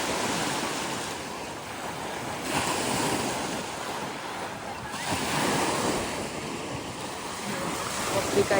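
Steady surf from Waskesiu Lake lapping at the beach on a fair day, its wash swelling and easing in slow surges every few seconds, mixed with wind buffeting the microphone; no voices over it.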